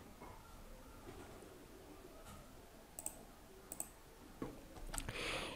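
Computer mouse clicks come as a few sharp, isolated taps spread over a quiet background, fairly near and faint.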